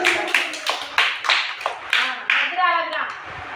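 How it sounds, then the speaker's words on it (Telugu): Preschool children clap together in a classroom in several short, sharp bursts of hand claps, with young voices and a teacher's talk mixed around them. "క్లాప్స్ కట్టండి"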